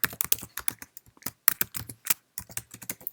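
Quick bursts of typing on a Mac keyboard while composing an email in Outlook, crisp key clicks in uneven runs with short pauses, close and clear with no voice.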